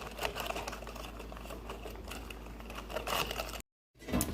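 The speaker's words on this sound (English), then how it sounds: "So here we've got a nut grinding reenactment" A hand-cranked nut grinder working through nuts, a fast, steady rattling clatter close by that stops briefly and then resumes.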